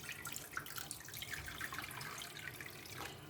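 Water is poured into a cooking pot for zarda sweet rice, a steady bright splashing stream running continuously at low level with no talk over it.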